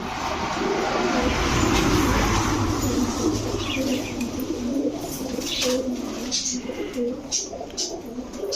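Pigeons, including Teddy, Pankhi and Shahranpuri breeds, coo steadily in a busy shop, a low continuous burbling close by with chirps on top, under constant talk from people nearby.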